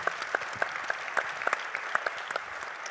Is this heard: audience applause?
yes